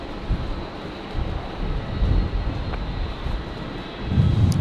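Jetstar 813 airliner lining up on runway 19 left at Brisbane Airport on a windy day, a steady low engine rumble heard from a distance, mixed with wind noise on the microphone, with no talk.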